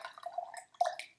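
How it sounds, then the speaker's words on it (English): Hot water poured into a gaiwan to preheat it, heard as faint close splashing and dripping with a short break partway, then a brighter splash. "I'm just going to pour the water"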